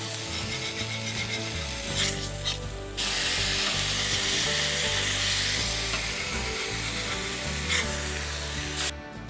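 Smashed beef burger patties frying in a hot pan, giving off a continuous bright sizzle with occasional mechanical clicks and short bursts of crackling.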